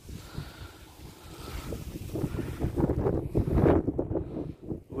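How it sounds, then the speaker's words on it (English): Strong outdoor wind buffeting a microphone during metal detecting: continuous low rumbling gusts that swell and roar louder toward the end, close and alone. "Wind is absolutely terrible."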